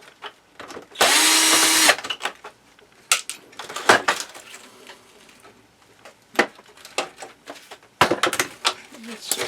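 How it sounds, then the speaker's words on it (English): A power drill bursts on for about a second near the start of a workshop teardown of a plastic device, followed by clicks, taps and handling knocks of parts and tools. "Might need my drill bit"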